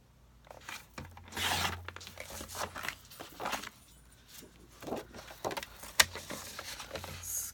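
A sheet of paper is scored and cut on a trimmer, giving a series of close, rasping slides and crisp crinkling swipes in irregular bursts, with a sharp snap near the end.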